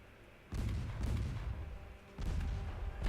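Heavy booming impacts from a torpedo striking a warship in the naval strategy game Ultimate Admiral Dreadnoughts, two loud low rumbling blasts, the second starting about two seconds after the first, with no voices.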